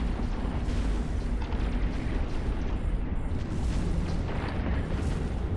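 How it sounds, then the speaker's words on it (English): Smart bombs fire in a space battle in EVE Online, a dense, continuous roar of overlapping booming blasts that stays loud and unbroken throughout. "I'll turn on the smart bombs just to help whittle them down a little bit."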